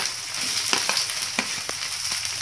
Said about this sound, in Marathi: कांदा टाकून घेऊया कट केलेला। कांदा टाकून घ्यायचा।